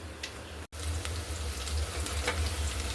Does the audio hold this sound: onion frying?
yes